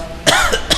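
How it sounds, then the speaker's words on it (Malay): A man gives a few short, sharp coughs close by, three harsh bursts in quick succession over a quiet background hum. "Batuk dah, tanda tua."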